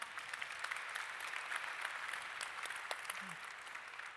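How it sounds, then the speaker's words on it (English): Conference audience applause at a European cooperation event: steady, distant-sounding clapping from a crowd that continues evenly for several seconds, with a brief voice near the end. "And big applause for the team that dealt with the questions to answer them online."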